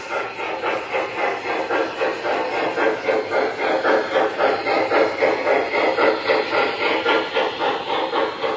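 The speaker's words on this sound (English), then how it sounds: "And that is our train run for today." A small train runs steadily along its track with a rhythmic clatter and a constant hiss, repeating evenly throughout, with no voices.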